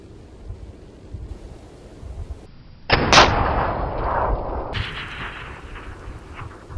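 A Spanish Mauser in .308 firing at a steel plate about 455 yards away outdoors: one sharp, loud shot cracks out, followed by a rolling echo and wind rumble that fade slowly, with no talking.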